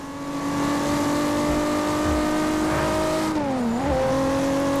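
A 1500 HP Toyota Supra MK4 in Forza Horizon 2 holds a loud, steady full-throttle engine howl, dips in pitch briefly as it shifts, then climbs again, with faint tire noise underneath.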